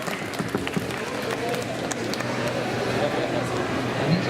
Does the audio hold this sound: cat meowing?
no